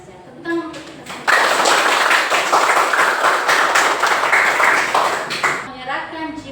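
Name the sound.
applause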